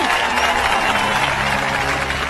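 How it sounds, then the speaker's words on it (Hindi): An audience claps in a scene from the Hindi-dubbed Ravi Teja film Tiger: a dense, continuous wash of many hands applauding at an even level throughout, with no distinct voices. "ताली बजाओ, ताली।"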